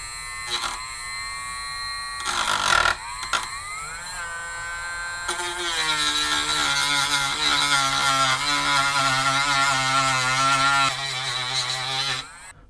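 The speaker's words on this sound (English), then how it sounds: "now I'm gonna cut the copper between with my Dremel" A Dremel rotary tool whines at high speed as it cuts thin copper on a Commodore Plus/4 circuit board, with short bursts at first and then a sustained buzzing drone whose pitch wavers under load before stopping.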